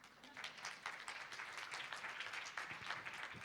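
An audience at a talk on training content writers applauds. The clapping is a quiet, fairly steady patter of many hands, heard at some distance with no voices over it.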